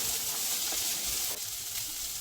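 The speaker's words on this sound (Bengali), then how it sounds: "মটরশুঁটি দেওয়ার পর আরও কিছুক্ষণ একটু নাড়াচাড়া করে নেব যাতে কাঁচা গন্ধটা চলে যায়" Vegetables, carrots, cauliflower and peas, sizzle steadily as they are stirred and fried in a pan. The hiss is continuous and close, with faint scraping from the stirring and no talk.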